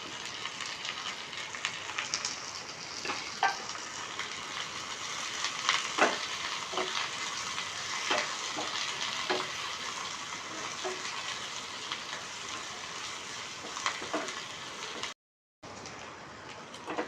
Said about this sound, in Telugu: బాగా వేగిందండి ఆనియన్స్